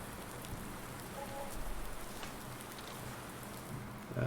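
Soft, steady rain patters on a surface in Farming Simulator 19, faint and continuous throughout.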